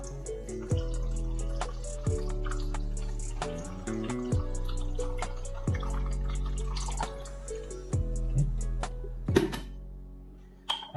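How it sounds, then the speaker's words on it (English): Water poured into bread flour in a home kitchen, a series of drips, splashes and hollow liquid thunks at irregular intervals, close and fairly quiet, with no talking. "Now we will add water to it."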